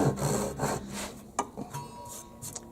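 Japanese pull saw cutting slowly through a piece of clamped wood, giving a series of rasping strokes with a few sharp clicks near the end, close and fairly loud.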